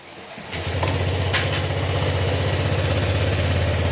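A car engine with an exhaust problem turns over and settles into a steady, low rumbling idle that runs evenly to the end, close by with no talking.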